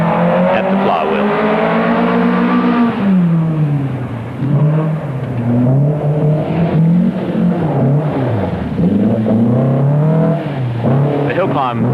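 Early-1980s rally cars with around 140 horsepower climb a hill stage, their engines revving loudly and rising and falling in pitch as they accelerate and shift.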